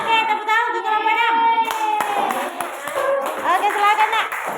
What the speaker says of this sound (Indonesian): Oke, tepuk tangan untuk kelompok 6.